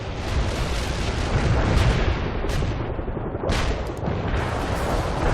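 An artillery fire-support barrage in the war game World in Conflict: a dense, continuous roar of loud overlapping blasts and rumbling booms, with sharper bursts standing out now and then and no break throughout.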